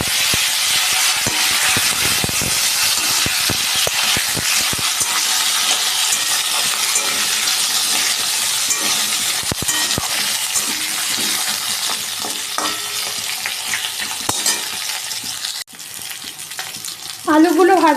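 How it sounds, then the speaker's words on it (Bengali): Potatoes go into hot oil that has been tempered with cumin seeds, bay leaf and dried red chili. They fry with a loud, steady sizzle that carries on throughout, broken by occasional clinks and stirring. "জিরে আর তেজপাতা ফোড়ন দিয়ে দিলাম। এবারে আমি আলুগুলো দিয়ে দেবো।"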